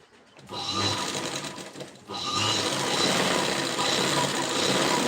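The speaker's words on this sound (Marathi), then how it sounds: "टक मारून घ्यायची" A sewing machine stitches a tuck in a blouse front, running in two bursts of fast, even mechanical whirring separated by a brief pause, close and clear.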